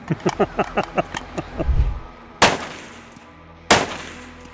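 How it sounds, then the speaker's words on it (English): Two loud, sharp rifle shots with iron sights fired at long range, about a second apart, each with a ringing tail, following a quick run of rhythmic metallic clicks and a brief low thump. "Who wants to shoot the last round? I'll hit it the first shot."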